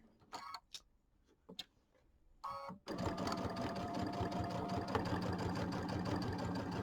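A home sewing machine stitching slowly across pinned quilt seams, starting with a few short bursts and stops, then running steadily in a dense, fast mechanical whir with a regular ticking pulse.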